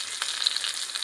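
Spices and paste sizzle steadily in hot oil in a pan for a Bengali potol and prawn curry, with a close, continuous hiss and small crackling bursts and no voices.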